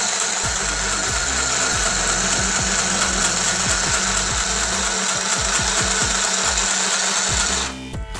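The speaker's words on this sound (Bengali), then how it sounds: "ব্যাস পাওয়ার সুচের মাধ্যমে সেলাই করে" A mini electric sewing machine stitches cloth held under its pressing bar, giving a steady close whirring hum with a rapid needle chatter that runs continuously for several seconds before stopping.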